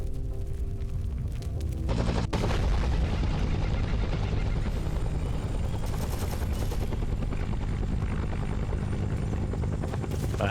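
Heavy gunfire and explosions in a Vietnam War video game, a dense, continuous loud barrage with a helicopter roaring underneath for the whole stretch, with no talk.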